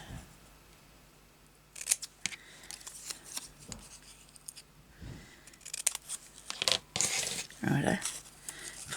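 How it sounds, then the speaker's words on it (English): Several crisp snipping bursts of scissors cutting through leather, irregularly spaced amid rustling and handling noises, close by. "Scissors might be a quicker do."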